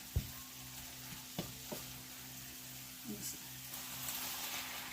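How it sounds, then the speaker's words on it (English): Parsley and cilantro sautéing in a pan for a quick pasta dish with mushrooms and onions, a faint, steady sizzle with a few soft knocks and a low background hum, while a voice speaks briefly. "I saute it a little bit more."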